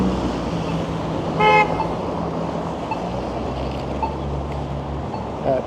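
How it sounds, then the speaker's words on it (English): A pickup truck gives one short, loud horn honk at a cyclist turning on Bloor Street in Toronto's west end. The honk rises briefly over a steady wash of street traffic and wind, then fades back into the city noise. "Pickup honked at the guy making a turn on his bike."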